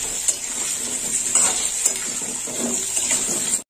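Frying potatoes stirred in a pan for a shrimp malai curry, with steady sizzle and scraping, clattering spoon strokes repeating close and fairly loud, no talk.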